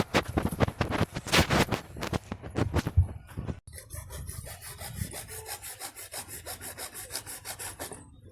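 A saw cutting through a piece of plastic pipe in a farm field, with rapid rhythmic rasping strokes that pause briefly and then resume as a softer, steady back-and-forth sawing.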